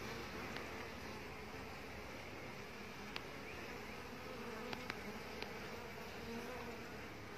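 Bees swarm around a hive hanging on an electric pole outdoors, a steady dense buzzing hum that continues throughout with a few faint clicks, no voices.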